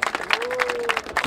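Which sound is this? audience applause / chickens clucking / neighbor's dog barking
audience applause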